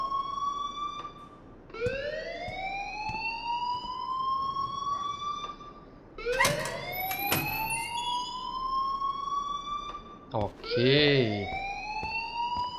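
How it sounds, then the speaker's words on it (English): A school alarm in the Life is Strange game sounds in repeated rising electronic whoops that sweep upward and hold, continuing loudly while a voice speaks over it. "please turn off that alarm since that's your job"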